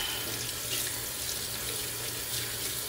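Water pours steadily from a tap at a sink, rinsing soap out of a shaving brush with a constant, close hiss and splash.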